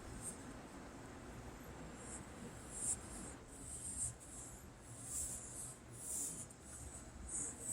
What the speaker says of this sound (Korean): 커브의 옆면도 마저 그려줍니다.